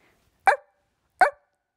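A person imitates a dog barking, giving two sharp, close, loud woofs about three quarters of a second apart in otherwise near silence.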